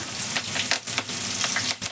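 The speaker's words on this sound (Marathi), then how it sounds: "आता मी ना कांदा टाकते हे बघा कांदा टाकते फोडणीला" Onion is dropped into hot oil for tempering and spits loudly right up close, a dense, continuous sizzle broken by several bursts of crackling.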